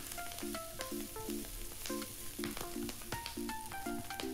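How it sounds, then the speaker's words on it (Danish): Garlic and Chinese broccoli fry in oil in a pan for Thai pad see ew, giving a soft, continuous sizzle beneath light plucked background music. "Tilsæt kinesisk broccoli og steg videre i 2-3 minutter."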